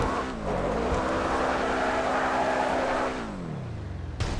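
A car in the GTA 5 video game drives with a loud, sustained engine drone whose pitch rises, holds and then drops as it shifts, with a brief thump near the end.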